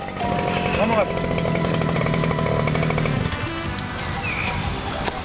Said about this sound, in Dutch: wij boren de plantgaten met de grondboor